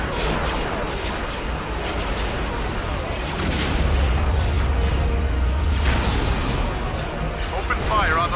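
Starship weapons fire and booming explosions in the Star Wars Empire at War space battle game, a dense continuous barrage of blasts and rumbling impacts, loud throughout, with faint voices mixed in.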